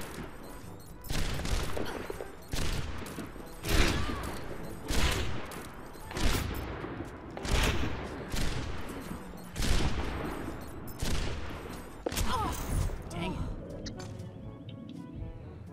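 Repeated gunfire bursts in an Overwatch match, several rounds of shots spaced across the stretch at moderate loudness, with players talking over and between them.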